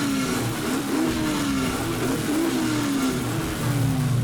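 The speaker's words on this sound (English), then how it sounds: "This is a muscle car. Oh, rev it up." A classic muscle car engine revs loudly and continuously, its pitch climbing and falling through several throttle blips with a steady deep rumble underneath, close by and with no talk.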